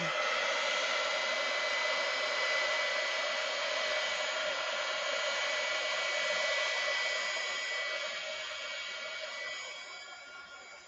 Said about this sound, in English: let's try the heat gun a little bit